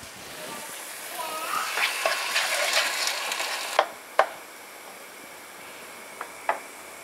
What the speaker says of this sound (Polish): Grzyby duszę na wolnym ogniu.